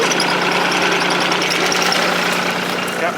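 A motor idles steadily and loudly at close range beside a well site, a constant droning hum with slight vibration and no changes in pace throughout, no voices over it.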